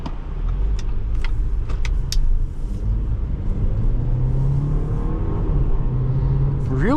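A 2025 Audi Q5 accelerates hard from idle, its engine rumbling steadily and rising in pitch from inside the cabin, loud and continuous throughout.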